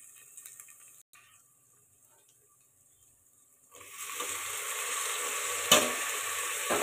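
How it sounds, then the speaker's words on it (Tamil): Tomatoes dropped into a hot pan and stirred while frying for tomato rice; near silence gives way to a sudden loud, steady sizzle, with a sharp clatter of stirring partway through. "தக்காளி சேர்த்து நல்லா கிளறி விட்டுடலாம்."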